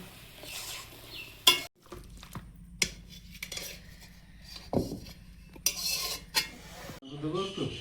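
Cooked taro greens scraped and poured out of a metal pot, with clattering spoon-on-pan scrapes and clinks over a low steady hiss, a few sharp metallic knocks standing out.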